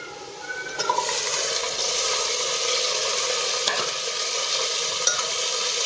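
Onion fried until red, then tomatoes, sizzles in a pan for pav bhaji, a loud steady frying hiss that jumps up as the tomatoes go in, with occasional scrapes of stirring.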